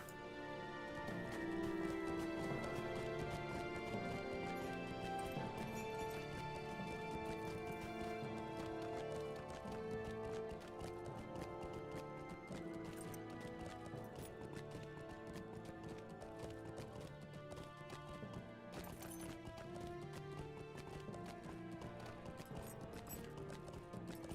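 A horse mount in the Lord of the Rings Online video game trots with faint, rhythmic clip-clop hoofbeats, quiet and partly buried under continuous orchestral game music.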